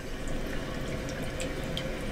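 Cooking oil poured into a large frying pan while preparing pork borscht, a soft, steady liquid trickle and gurgle running quietly throughout without talk.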